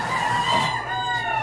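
Rooster crowing close by, a single loud drawn-out crow with a tonal wavering cry, sounding alone near midnight in a rural Philippine setting.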